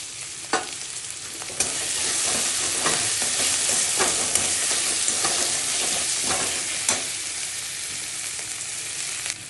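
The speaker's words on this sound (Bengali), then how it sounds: "টমেটো দিয়ে দিচ্ছি।" Tomatoes fry in a pan for a Bengali Lote fish curry, a loud, steady close sizzle with occasional scraping stirs running throughout.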